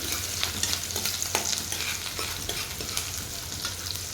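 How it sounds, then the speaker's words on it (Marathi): Finely chopped onion sizzles in a pan as it is sautéed and stirred, a close, continuous frying hiss with repeated scraping strokes of the spoon. "एक कांदा मी अशा प्रकारे बारीक कापून घेतला होता तो कांदा आपल्याला टाकायचा आहे आणि कलर चेंज होईपर्यंत कांद्याचा परतून घ्यायचा आहे"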